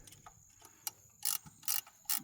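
A ratchet snugs a nut on a 1968 Mustang: faint scattered clicks, then three louder close ratcheting bursts at an even rhythm, with no talking.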